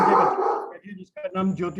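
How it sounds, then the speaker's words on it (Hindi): A dog barks a few times in the background while someone talks over it, the barks short and partly masked by his speech. "ये आपको कुत्ते के भौंकने की आवाज सुनाई दे रही होगी"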